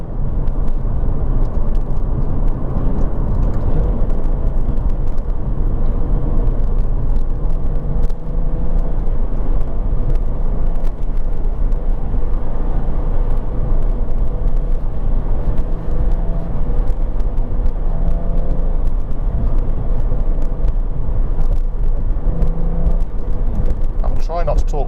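A Jaguar F-Type sports car drives a twisty, slightly slippery road, its engine droning steadily and loud throughout from inside, with someone talking over it at times.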